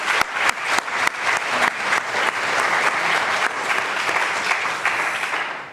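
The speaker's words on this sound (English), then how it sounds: "I want you to give her a round of applause right now to start." A conference audience gives a round of applause, starting with a few distinct claps that quickly swell into a steady, fairly close wash of clapping that holds to the end.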